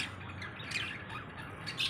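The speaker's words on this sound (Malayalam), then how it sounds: "കിളിക്കുഞ്ഞുങ്ങൾ എന്തെടുക്കുന്നു നോക്കട്ടെ." Lovebird chicks squawk continuously in harsh, raspy calls, close by and fairly loud for the whole stretch.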